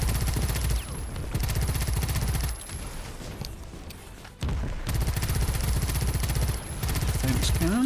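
A defense cannon in the Pax Autocratica video game fires in rapid bursts, dense crackling volleys of gunfire coming in loud waves with short lulls between them.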